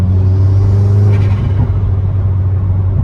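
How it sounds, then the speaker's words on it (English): Turbocharged Subaru WRX pulling hard under acceleration, a steady low engine drone with a rising turbo whir and a faint hiss near the middle, close and loud throughout. "the turbo sound is very pronounced"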